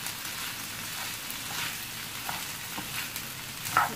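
Rice with chicken sizzles and crackles in a pan while being stirred, a continuous close frying hiss with faint scrapes and a small knock near the end, no talk.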